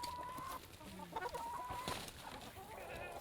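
Hens in a backyard flock without a rooster cluck steadily and close by, with a few drawn-out tonal calls rising over the busy chatter.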